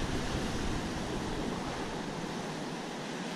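Surf breaking on a Florida beach at Playalinda, a steady full roar of waves and wash with no talk over it.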